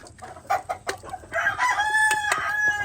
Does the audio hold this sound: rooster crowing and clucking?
yes